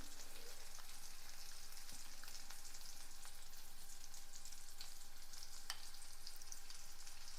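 Ground raw mango chutney sizzles in a hot tempering with asafoetida. A steady, quiet frying hiss runs throughout, broken by occasional sharp crackles and pops.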